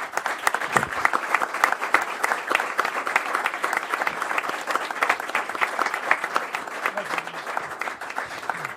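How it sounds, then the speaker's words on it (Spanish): A crowd at a post-match press conference for an Estudiantes vs Independiente football game applauds in tribute to an Argentine football legend, with steady, dense clapping that holds at an even level for about nine seconds. "Lo aplaudimos y damos por terminada la conferencia."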